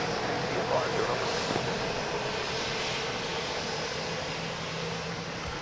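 Boeing 717 jet at Dallas Love Field at night, a steady broadband engine roar that holds loud and even throughout, with faint voices beneath.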